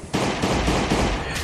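Rapid sustained gunfire from the survival video game Last Day On Earth, a dense, loud burst of shots that starts abruptly and rattles on steadily for over a second with no pause.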